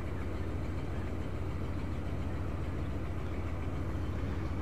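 A 1972 luxury car's engine idles with a smooth, steady low rumble through a single exhaust, even and unbroken, heard alone with no voices.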